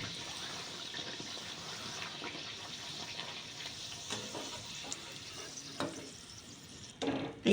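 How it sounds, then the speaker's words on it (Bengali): Kachori fry in hot oil, a fairly quiet, even bubbling sizzle with a few faint clinks, ending in a louder burst of splashing and handling. "দেখো এইদিকে দেখো তেলটা গরম হয়ে গেছে, আমি ভেজে নেবো এবারে"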